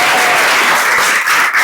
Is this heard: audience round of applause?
yes